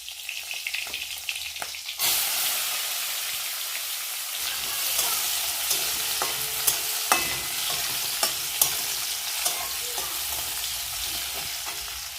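Black cumin seeds hit hot oil alongside dried fish: after quiet clicks, a loud crackling sizzle bursts in and keeps spitting with scattered sharp pops close by.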